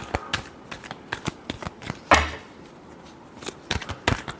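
Tarot cards being shuffled, a run of crisp riffling flicks and taps with a sharper burst midway, close and alone with no voices.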